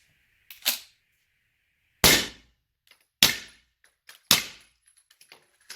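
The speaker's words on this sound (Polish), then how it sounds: "Tak, są trzy strzały." Three sharp, muffled pops from a suppressed pistol firing subsonic ammunition, spaced about a second apart, each cutting off quickly, with a small click and faint mechanical rattles between them.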